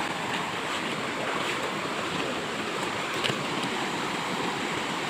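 Dumagooc Falls in Agusan del Sur pours in a steady, dense rushing roar, loud and close, with no voices over the water.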